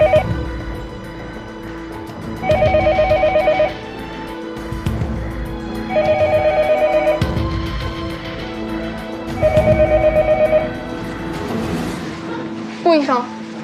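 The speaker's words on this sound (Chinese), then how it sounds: "没事，我用座机，先打个电话回科室。" A landline telephone on an outgoing call gives a repeating ringback tone: three evenly spaced buzzing rings, each about a second long, with a low hum between them and a short electronic chirp at the end.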